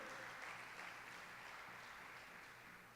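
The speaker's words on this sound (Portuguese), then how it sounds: "Quero um aplauso a Jesus pelo benefício do perdão" Soft, distant applause from a church congregation during a sermon, a low steady wash of clapping that ends in a brief louder burst.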